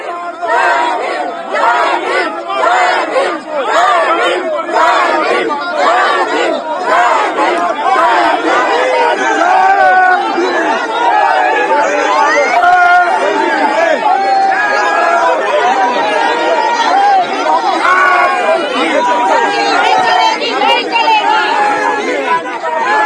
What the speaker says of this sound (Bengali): সংসদের বাইরে কংগ্রেস আর বিজেপির স্লোগান, পাল্টা স্লোগান, সরগরম পরিস্থিতি